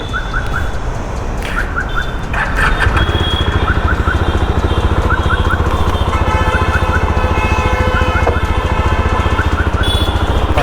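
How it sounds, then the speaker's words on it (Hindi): A Jawa 42 FJ 350 motorcycle idles loudly and steadily close by, its exhaust putting out a dense, even thrum throughout, while brief high chirping tones come and go over it. "तो सबसे पहले अब हम इसका एग्जॉस्ट नोट सुनते"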